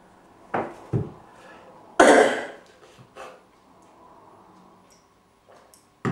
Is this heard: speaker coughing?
yes